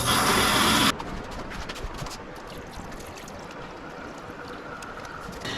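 Water running and splashing steadily down a floor drain after cleaning a Munchkin boiler heat exchanger, a continuous close trickling wash that starts louder and settles to a steady flow.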